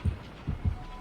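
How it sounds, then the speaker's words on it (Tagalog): Heartbeat effect in a video game, three low muffled thumps in a lub-dub rhythm, close and fairly strong, heard alone. "dito pa rin yung heartbeat"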